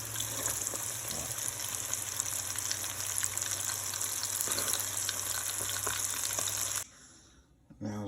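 Shrimp dropped into hot oil fry with a steady, loud crackling sizzle that holds evenly for several seconds, then stops abruptly, leaving quieter room sound.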